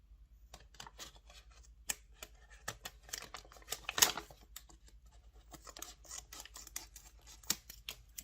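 Scissors snip repeatedly at a plastic pack, sharp crisp clicks and crinkles coming in irregular bursts, close and fairly quiet, with no talking.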